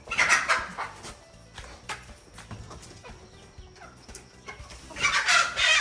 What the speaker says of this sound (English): So we've got a bunch of chickens in there, ready to head over to the coop.